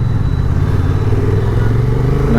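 Honda Transalp motorcycle engine running steadily while riding through traffic, a loud continuous mid-pitched drone with slight rises in revs throughout.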